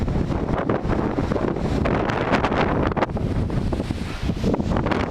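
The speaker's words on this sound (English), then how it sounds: "when that wind blows, and at the minute, she's blowing" Strong wind blows across open country in stormy weather, buffeting the microphone with loud, continuous roaring gusts and no talking.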